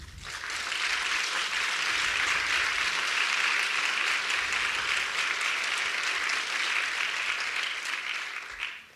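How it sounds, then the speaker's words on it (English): Sustained applause from a large audience at a nursing pinning ceremony honouring graduates, a thick, even roar of many hands that swells quickly, holds steady for several seconds and tapers off at the end. "Let's give them a round of applause."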